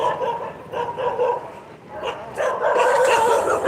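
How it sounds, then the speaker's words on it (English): Street dogs fighting outdoors on a morning walk near a bus stop, giving overlapping barks, yips and whimpers that grow louder and more frantic toward the end, against steady street noise. "we definitely got a dog fight"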